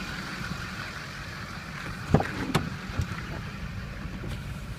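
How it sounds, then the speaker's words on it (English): A Duramax diesel truck engine idles quietly in the background as a faint, low, steady rumble. A few soft knocks and clicks from nearby handling rise above it. "That's Duramax, nice and quiet."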